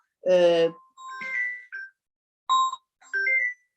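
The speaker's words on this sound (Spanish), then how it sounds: "Sí, le sonó el teléfono." A mobile phone rings with a short electronic melody of bright tonal notes in separate bursts, after a loud burst of voice at the start.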